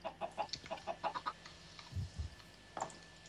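A chicken in the Minecraft video game clucks in a quick series of short, close calls, followed by a few low thumps and one more cluck after a pause.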